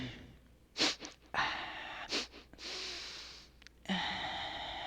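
A voice imitates snorting up snot: several sharp nasal sniffs and longer drawn-in snorts, close to the mic, with brief pauses between.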